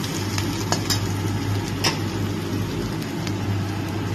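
Onions and spices sizzling in a pan with occasional sharp clinks and scrapes of stirring, steady and close, no voices.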